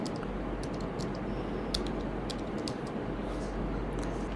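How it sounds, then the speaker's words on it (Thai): Computer keyboard typing as a search term is entered into Google, a steady run of soft, closely spaced key clicks over a constant low hum, with no talking. "เข้าไปอยู่ที่ Google แล้วพิมพ์คำว่า Kahoot"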